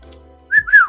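A person whistles a brief two-note tune up close, each note a clear, bright tone that slides slightly in pitch, with a short gap between them over a faint low hum.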